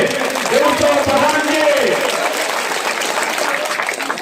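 Crowd of villagers at a Puja pandal event applauding a visiting MP, sustained loud clapping lasting the whole stretch, with a voice speaking over the applause.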